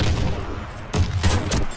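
Gunfire in the shooter Warface during a team deathmatch, with several loud, sharp shots spaced through a steady wash of battle noise and distant firing.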